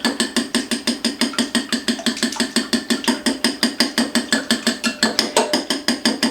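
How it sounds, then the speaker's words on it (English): A whisk beats eggs with pepper in a bowl, making a steady run of quick, sharp clinks against the bowl's sides, close and loud, with no talking. "So I'm just going to whisk this together real quick."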